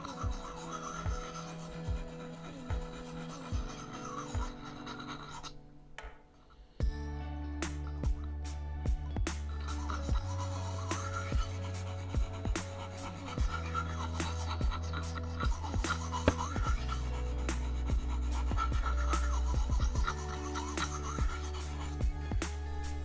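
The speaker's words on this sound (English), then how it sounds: "One of the ways I was taught to sharpen the knife was long slicing strokes" Knife edge drawn across a sharpening stone in long slicing strokes, giving repeated scraping rasps in a steady rhythm, close and fairly quiet, with no talk.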